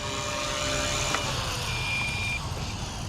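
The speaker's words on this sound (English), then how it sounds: "You can hear the battery alarm going off." RC helicopter battery alarm beeping, a steady high tone under a constant loud hum of rotor and motor noise.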